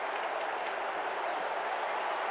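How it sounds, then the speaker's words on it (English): Stadium crowd at an Ohio State versus Georgia college football game, a broad, steady roar of cheering and clapping from a large distant mass of fans, unbroken for the whole stretch. "And the crowd comes alive at the end of the first half"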